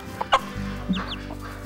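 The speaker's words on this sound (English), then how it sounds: "she'll cluck to the baby" A mother hen gives a few soft, close clucks to her chick in short bursts, with quiet gaps between them.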